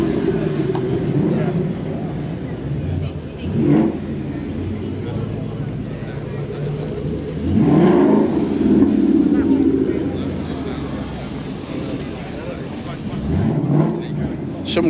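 Ford cars passing at Ford Fair 2024 at Silverstone, some with louder aftermarket exhaust systems, rumble by in several swells, near and fairly loud, over steady crowd and wind noise with people talking.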